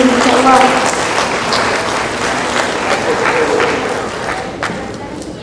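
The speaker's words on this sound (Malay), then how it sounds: "Bagi tepukan yang paling gemuruh untuk tiga-tiga balik pada hari ini" A crowd at a Malay-language talk show event gives thunderous applause for three guests: dense, loud, sustained clapping from many hands that slowly tapers off near the end.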